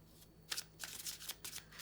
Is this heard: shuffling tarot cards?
yes